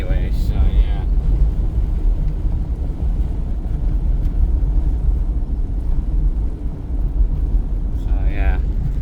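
A 1984 Mercury Marquis with a replaced exhaust drives along, a steady low engine and road rumble filling the cabin, while a person talks over it.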